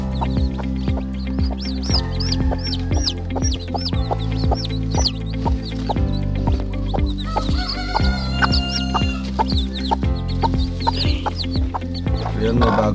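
Newly hatched native chicks and grown chickens cheep and cluck continuously and close by, with dense overlapping high peeping calls over steady lower clucking.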